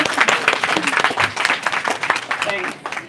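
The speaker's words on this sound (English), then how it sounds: "Should we clap? We can clap." Audience clapping at a Summit of the Future panel discussion, a brief burst of close, dense applause with voices mixed in.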